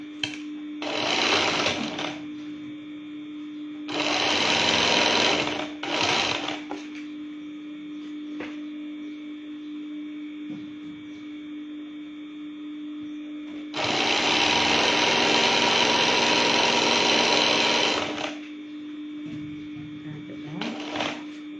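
Sewing machine stitching the seams of a crepe abaya, loud close whirring runs in several bursts, one long run in the middle, with quiet gaps and a steady hum between them.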